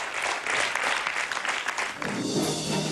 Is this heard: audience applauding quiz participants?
yes